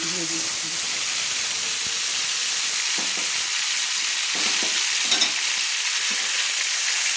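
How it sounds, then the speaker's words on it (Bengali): Ground cumin spice paste fries in hot oil, being worked in a pan for a fish curry, producing a loud, steady sizzling hiss with faint stirring throughout. "আমি পেস্ট করা মশলাটা আমি কষিয়ে নিচ্ছি তেলের মধ্যে"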